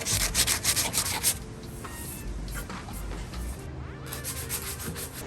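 Hand sanding scrubs at small rust spots on the metal frame of an MG soft top in a workshop, a close rhythmic rasping of quick strokes that settles into a steadier grind.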